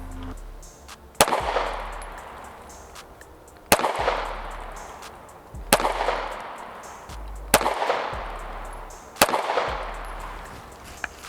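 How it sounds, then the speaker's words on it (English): Five pistol shots fired at a target using a red dot sight, each one a sharp crack with a short decaying tail, spaced about two seconds apart at moderate distance. "But let's shoot a 5-shot group."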